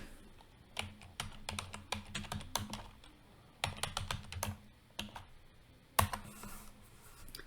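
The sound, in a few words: typing on a computer keyboard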